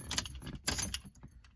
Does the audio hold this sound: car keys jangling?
yes